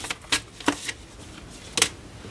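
Tarot cards are cut and drawn by hand, giving a handful of crisp, close card snaps and flicks at irregular intervals over a faint background hiss.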